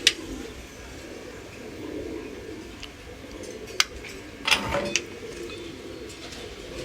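Pet pigeons, a paired male and female fancy breed, coo softly in a low, wavering murmur, with a few sharp ticks and clicks over the top, no voices.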